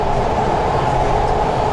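A passenger train in India pulling into a station, heard from inside as a steady, loud low rumble of the carriage with no clear pauses.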